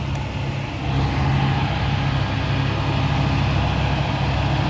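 A 2002 Gulf Stream Sun Voyager motorhome engine idles nearby, a loud, steady low rumble with an even drone that barely changes from start to finish, with nothing else heard over it.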